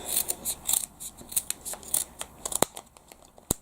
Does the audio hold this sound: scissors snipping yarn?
yes